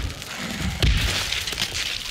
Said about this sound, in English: Number 2, meathead exploding from bomb lens shot